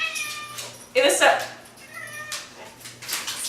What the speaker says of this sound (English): Sorry, my animals are fighting behind me.